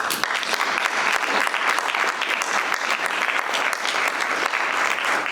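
Sustained applause from a large crowd at a luncheon, dense and loud, continuing at an even level throughout.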